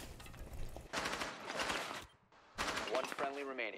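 Bursts of gunfire from a first-person shooter match crackle in several loud volleys with a short gap between them, mixed with game effects and faint speech.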